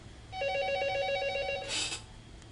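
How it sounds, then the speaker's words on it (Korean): Electronic telephone ring, a warbling two-tone trill lasting about a second and a half, then a brief burst of noise, in a quiet room. "전화가 왔네요."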